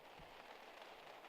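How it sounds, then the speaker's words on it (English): Steady rain falls outside during a spring bear hunt in Idaho, a dense even hiss with scattered drop patter and no voices, faint and continuous throughout. "Just started to rain outside."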